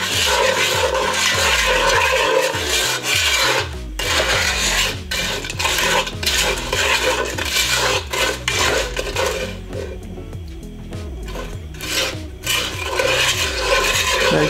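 Kettle corn ingredients are stirred in a metal pot, a continuous loud scraping and rattling with rhythmic utensil strokes against the pot, briefly easing before resuming.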